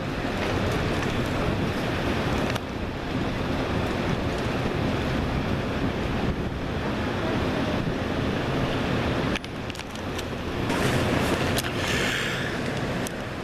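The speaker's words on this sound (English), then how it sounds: "At the ocean." Ocean surf rolls onto the beach at Ocean City, New Jersey, a continuous broadband wash of breaking waves mixed with heavy wind buffeting the microphone, with no talk.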